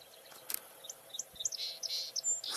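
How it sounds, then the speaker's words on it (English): Thin, high-pitched song sparrow notes and trills sound faintly from some distance outdoors, scattered in a quick series over a soft background of insects. "that's a song sparrow there"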